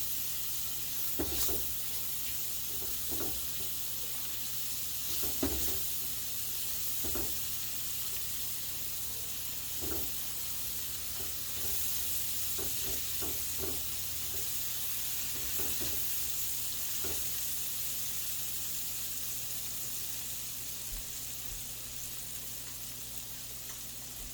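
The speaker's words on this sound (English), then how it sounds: "Half a cup of red onions. Give it a nice stir." Red onions, about half a cup, sizzle steadily in a hot pan while a spoon stirs them, with scattered scraping clicks over a constant frying hiss, close and fairly soft.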